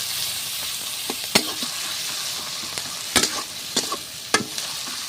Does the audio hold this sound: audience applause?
no